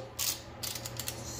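A ratchet torque wrench clicks through a short angle-torque turn on an Audi 2.0L engine head bolt, a quick run of close, crisp ratcheting clicks lasting about a second.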